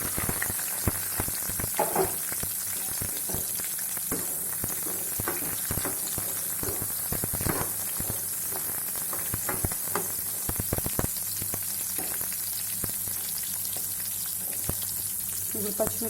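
Onions fry in hot oil in a pan for an Andhra-style chicken curry, giving a steady hiss and sizzle broken by frequent sharp crackles and occasional utensil scrapes, close and continuous.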